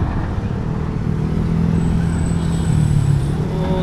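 Motorcycle bike taxi riding through Manila traffic, a steady close engine drone that swells slightly with acceleration, other road vehicles around it.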